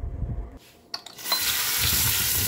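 Running tap water pours into a kitchen sink while vegetables are washed, a steady broadband rush after a brief clatter and pause, close and continuous.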